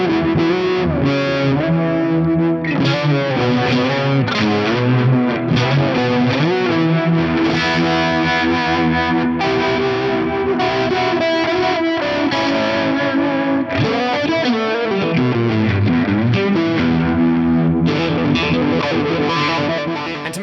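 Electric guitar through a Fractal rig with reverse delay and mono tape delay, producing swirling spacey echoes and warped, modulated tones in a Hendrix style; loud, continuous and distorted throughout with no talk.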